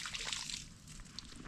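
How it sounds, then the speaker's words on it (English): Water from a Wanderful Shower portable container pours and splashes onto the ground outdoors by a Sprinter van, a steady faint sloshing stream with no talk. "Just pour it out wherever."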